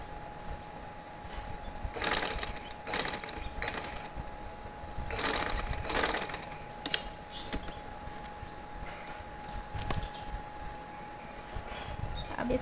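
A sewing machine stitches trouser fabric in short bursts of whirring, several separate runs spaced by quieter pauses, fairly faint and close.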